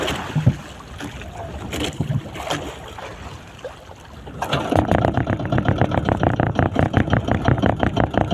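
A boat engine starts up on a fishing trip off Palawan, settling after a few seconds into a loud, steady, rapidly pulsing chug with wind noise over the microphone, up close and with no talk.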